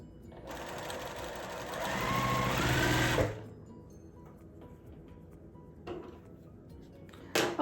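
Sewing machine stitching quilt block pieces at an angle, a fast steady whirring hum for about three seconds that stops abruptly, followed by quieter handling clicks and rustles.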